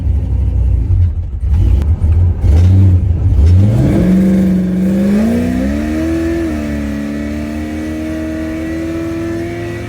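Supercharged car, Black Bean, with a slipping drive belt, accelerating hard: a loud engine rumble rises into a climbing rev with a rising whine through the gears, then settles into a sustained high drone.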